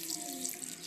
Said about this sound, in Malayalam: കാൽ കപ്പ് വെള്ളം ഞാൻ ഒഴിച്ച് കൊടുക്കുന്നുള്ളൂ.